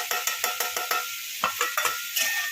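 Paneer cubes fry in a pan while being stirred, with a quick series of sharp spatula scrapes and clacks against the pan over a soft sizzle. The taps fall in an uneven rhythm, close and clear, with no talking.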